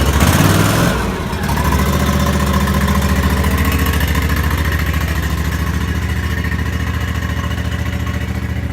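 A lawn mower engine cold-starts on choke with a sputtering catch about a second in, then settles into a steady, close, throbbing idle as it warms up.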